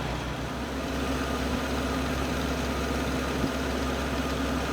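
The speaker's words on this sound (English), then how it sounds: "I'm gonna turn on my compressor" An air compressor running steadily to inflate car tires in a garage beside a 1952 Buick, a constant low hum and drone, fairly quiet and unbroken, with no talk.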